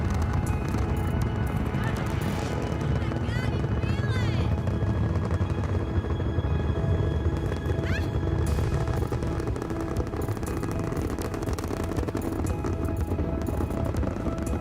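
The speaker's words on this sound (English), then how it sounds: "Got a helicopter up there in the back." A helicopter flies overhead as a loud, continuous rotor roar and rumble that holds steady throughout, with faint voices mixed in the background.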